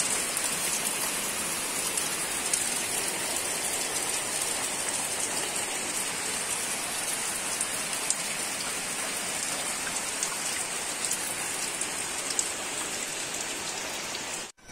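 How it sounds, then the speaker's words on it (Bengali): Heavy morning rain pours down in a steady, dense hiss that stays loud and unbroken for the whole stretch, with no voices and no thunder. "কি পরিমাণে বৃষ্টিতে আছে"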